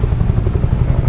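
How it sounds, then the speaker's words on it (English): Firefighting helicopters flying over a bay, their rotors making a loud, steady, low rhythmic chop that fills the short stretch without a break. "We're just watching as the helicopters fill their buckets with water and then take them up the hillside."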